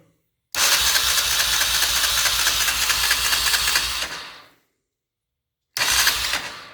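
A 1991 Honda Fourtrax 300 4x4 ATV, started for the first time in a year, fires up and runs roughly for about four seconds, cuts out, then catches again briefly, loud and close.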